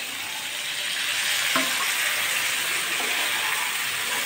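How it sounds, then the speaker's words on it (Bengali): Pointed gourd pieces fry with ground spice paste in hot oil, giving a steady, close sizzle that holds throughout with one brief stirring scrape partway through. "মশলাটা দিয়ে আমি ভালো করে পটলগুলো কষিয়ে নেব মশলার সঙ্গে।"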